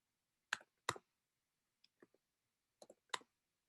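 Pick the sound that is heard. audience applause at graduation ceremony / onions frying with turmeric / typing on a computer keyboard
typing on a computer keyboard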